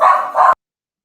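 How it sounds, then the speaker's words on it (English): Two quick, loud, close barks from a dog indoors, cut off abruptly, with no talking. "The audience they've heard my dogs plenty of times"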